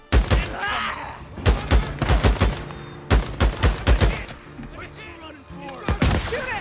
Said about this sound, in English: Ooh, that was a shotgun!